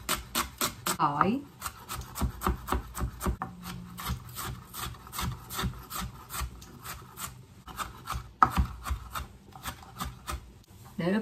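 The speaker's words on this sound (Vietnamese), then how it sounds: "Để ướp gà thì mình băm hành tỏi sả." A knife minces shallots, garlic and frozen lemongrass on a board to make a chicken marinade, giving a rapid, steady run of close, crisp chopping taps that continues throughout with only brief pauses.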